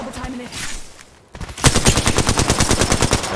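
Rapid automatic gunfire in a shooter video game erupts after a brief lull, a fast, even burst of close, loud shots that keeps rattling to the end.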